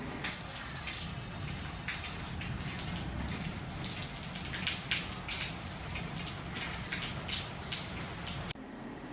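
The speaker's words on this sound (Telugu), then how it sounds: "భారీగా పడింది వర్షం అయితే" Heavy, continuous rain pours down steadily, a dense, even hiss of drops drumming on surfaces with no voices, cutting off abruptly near the end.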